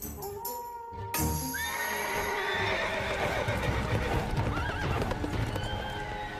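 Spooked horses whinny and neigh loudly over a steady clatter of hooves on rocky ground, with several overlapping calls rising and falling close by.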